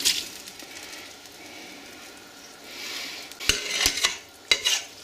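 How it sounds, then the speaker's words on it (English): Pork with cabbage, carrot, tomatoes and stock is stirred in a pot, with a soft bubbling wash and then several sharp utensil knocks against the pot near the end. "Give a good stir."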